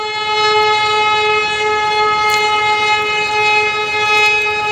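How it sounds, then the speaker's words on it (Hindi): A train passes near a railway crossing on a freight corridor, its horn sounding in one long, loud, sustained blast over the steady rumble of rolling wagons, with no talk. "अभी ये इधर से भी देखो एक ट्रेन निकल रही है"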